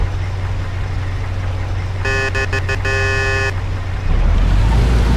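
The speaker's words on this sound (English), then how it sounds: "you should warn them by sounding the car horn" A car horn honks in a short series of blasts over a steady engine drone in the video game Mafia, and the engine revs louder afterward.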